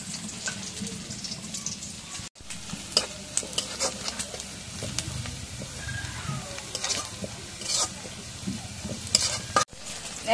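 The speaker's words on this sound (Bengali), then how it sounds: "তেলের মধ্যে পেঁয়াজ ভাজা আগে," Onions frying in oil in a kadai, a steady close sizzle with scattered stirring clinks and spatters throughout, briefly cutting out twice.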